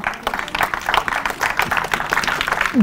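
Congregation applauding in a church service, a dense, steady patter of many hands clapping close by at even loudness throughout, with no talk over it.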